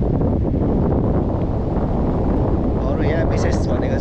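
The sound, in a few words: wind blowing at a suspension bridge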